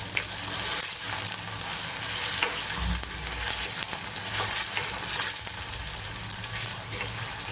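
Tomatoes sizzle loudly and constantly in a hot pan of onions for a chana palak muthiya curry, with occasional stirring clinks and no talk.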